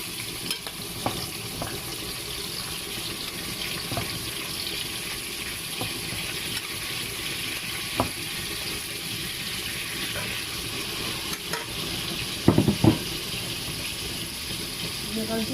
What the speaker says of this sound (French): Je vais mettre mes beurres et mes crevettes,